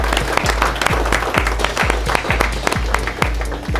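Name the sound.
audience applause at streetfishing championship final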